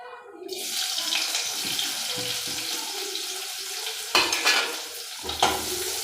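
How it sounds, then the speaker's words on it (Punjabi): Chopped onions frying in a pan produce a loud, continuous close-up sizzle, with scraping stirs and a couple of sharper clatters near the end. "ਹੁਣ ਆਪਾਂ ਪਾ ਲਾਂਗੇ ਪਿਆਜ਼ ਕੱਟੇ ਹੋਏ"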